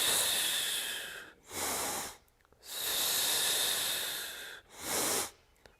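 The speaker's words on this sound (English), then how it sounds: "The inhale, like a sniff in to stabilize the core." Sharp sniffing inhales and long hissing exhales alternate during a core-bracing breathing exercise, close and clear, three breaths in a steady rhythm with no talk.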